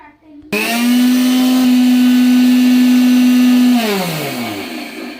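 A mixer grinder grinding chillies whirs loudly with a steady high hum for about three seconds, then winds down as the motor slows.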